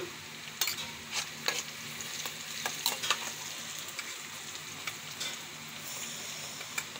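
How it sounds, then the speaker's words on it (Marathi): Onions frying in oil in a pan for a homemade flat-bean curry, a steady close sizzle broken by irregular scraping strokes of a spatula stirring throughout. "आपल्याकडे कांदे छान भाजून घेऊ, हलके गोल्डन झाले का हळदी घालू।"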